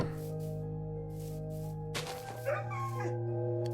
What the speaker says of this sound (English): the dog sounds in this are so rough, man